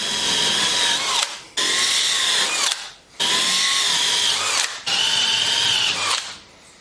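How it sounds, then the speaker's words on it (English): Power drill boring holes through wooden swing boards in four loud, steady bursts separated by brief pauses, close up and with no talking. "we'll go ahead and drill these"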